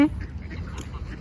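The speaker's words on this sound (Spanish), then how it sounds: "Patos por donde quiera." Ducks quack briefly and nearby in a park where many ducks gather, a short burst of calls.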